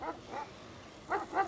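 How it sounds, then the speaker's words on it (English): A dog gives two pairs of short barks, moderately close, with a quiet pause between them in an indoor horror-comedy scene. "What is she barking at?"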